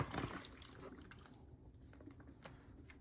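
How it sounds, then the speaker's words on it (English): Water drips and trickles quietly from a small leak in a home black-and-white film developing setup during the wash stage, with a brief splash at the start followed by faint scattered drops. "we got a little bit of a leak here"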